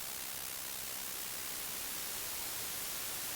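White noise from a synthesizer in Bitwig, modulated in volume by a sine-wave LFO, plays as a steady, even broadband hiss with barely noticeable swelling.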